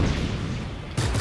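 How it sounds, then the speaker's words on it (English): Fuel tanks blow up in the video game Just Cause 3, a deep rumbling blast rolling on, then a second sharp explosion bursting in near the end. "Blow up the rest of these fuel tanks."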